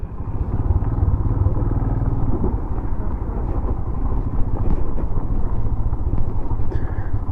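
A motorcycle engine rumbles steadily and loudly throughout while climbing hilly trails near Kulekhani, Nepal, close to the microphone, with some rattling clatter over the drone.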